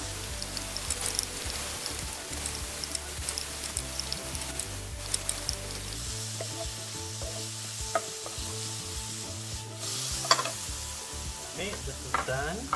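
Mushrooms and onions fry in a pan for vegan bibimbap, sizzling steadily with crackling pops and the scrape of stirring throughout.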